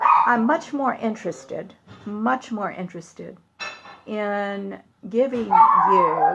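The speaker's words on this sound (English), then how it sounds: "I'm so sorry about the dog barking." A dog barks downstairs in a home during a live talk show, sharp bursts and a sustained yelp mixed in with a woman's ongoing speech.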